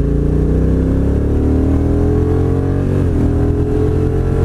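Honda NT 1100 motorcycle engine in third gear with a downshift, a loud close steady drone whose pitch drops briefly at the gear change before holding steady again.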